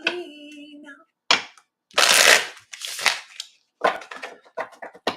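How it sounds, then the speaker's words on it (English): Playing cards are shuffled by hand in short bursts of crisp riffling and snapping, separated by silent pauses, close and fairly loud, after a brief hum at the start. "Can you guys hear me shuffling?"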